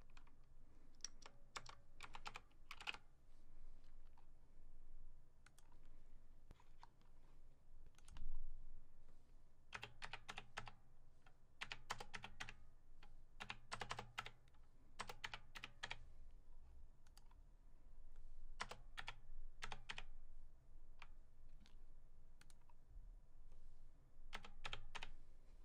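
Someone types a code on a computer keyboard in bursts of quick, close key clicks separated by short pauses, with no talking.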